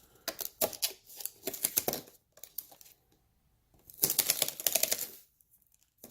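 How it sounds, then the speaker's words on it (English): A zipper on a Skullcandy Barricade Mini speaker case is pulled open in a few quick, raspy bursts at close range, with pauses between them and a longer final run of zipping. "Little unboxing zipper."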